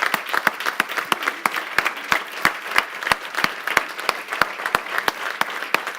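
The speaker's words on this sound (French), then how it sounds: "ça mérite une bonne main d'applaudissements." Applause from an audience at a summit gathering, thanking event organizers; a sustained round of clapping with sharp individual claps standing out near the microphone over a steadier crowd bed.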